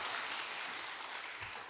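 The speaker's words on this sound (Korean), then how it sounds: "영광의 박수를 올려드립니다" A church congregation applauds during a Sunday morning worship service, a dense, steady wash of clapping that holds at an even level for a couple of seconds before easing slightly.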